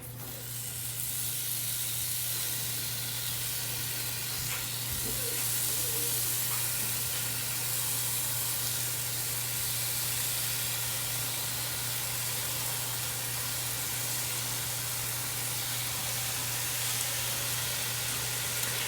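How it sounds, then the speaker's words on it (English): Continuous bright sizzling and hissing of bacon frying in a hot Cosori multi-cooker pot, steady and close, with a faint low hum underneath. "So now I'm going to add in my bacon."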